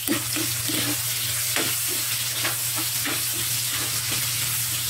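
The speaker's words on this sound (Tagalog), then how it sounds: "Lagay na natin ang bombay." Chopped onion fries in hot oil in a pan while being stirred, a steady bright sizzle with rhythmic scraping strokes of the utensil, close and continuous with no talking.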